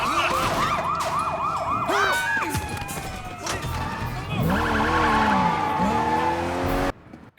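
Wailing police car siren from the open-world action game Sleeping Dogs, rising and falling in loud repeated sweeps during a vehicle getaway, with engine noise and a second siren layer before cutting out abruptly near the end.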